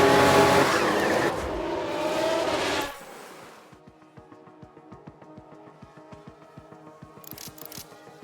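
A Formula 1 race car in the F1 Manager 22 video game skids and spins, with a loud engine roar and tire squeal that cuts off, then a thinner, pulsing engine sound continuing at a distance.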